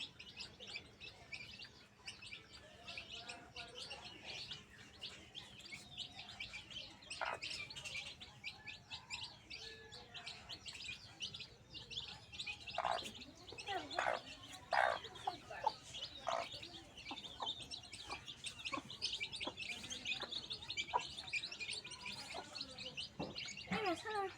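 Chicken chicks chirp in a steady stream of thin, high tweets while being fed, rising in density midway and continuing throughout, with faint voices in the background.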